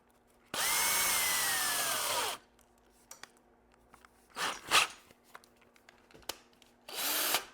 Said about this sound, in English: I'm going to put a drill on this end